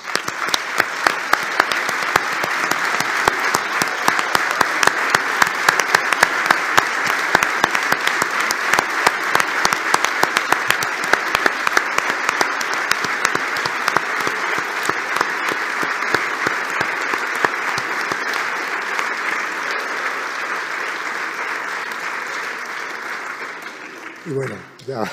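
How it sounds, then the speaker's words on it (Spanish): An audience at a diploma ceremony gives long, dense, steady applause for about twenty-five seconds, loud and continuous, then stops abruptly with a brief rustle at the end. "les demos un fuerte aplauso a ellos"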